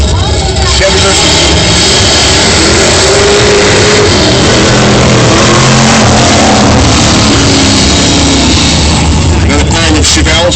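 Drag-strip launch of a Chevy against a 1969 Camaro 427, a loud sustained roar of engines filling the whole stretch with a rasping, saturated blare, while an announcer talks over the PA.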